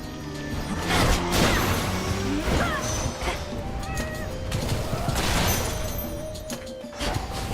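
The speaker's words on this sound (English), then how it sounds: "Oh, dodge out of the explosions." Mines explode in Hades II, a run of loud crashing bursts and booms clustered close together amid busy combat effects and music.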